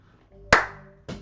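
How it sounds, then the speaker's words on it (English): A single sharp hand clap rings out loud and close, followed by a quieter second clap about half a second later, over faint background hum. "that clap was probably super loud in OBS"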